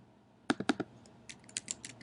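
Brief typing on a computer keyboard: a couple of sharp, close keystrokes, a short pause, then a quick run of lighter clicks, all in a quiet room.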